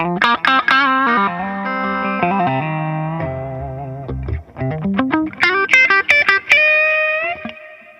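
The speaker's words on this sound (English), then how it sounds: "the 6th position takes both the humbuckers again, but puts them out of phase with each other completely" Framus AK1974 electric guitar played alone with both humbuckers out of phase, in short phrases with a thin, hollow, nasal, quacky tone, single notes and small chords with pauses between.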